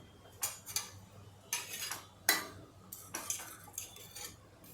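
A spoon stirs green chilli dal in a pot, making several distinct metallic clinks and scrapes against the vessel in an uneven rhythm, close and fairly quiet.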